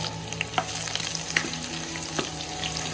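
Onion, garlic and green chilli sizzle in hot oil in a pan alongside bitter gourd and maize for a village-style karela bhaji, a constant close frying hiss broken by scraping stir strokes.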